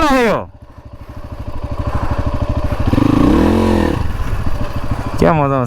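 Dirt bike motorcycle riding on a cycle track, its engine buzzing loud and near, rising in pitch as it revs and surges, with people talking and shouting around it.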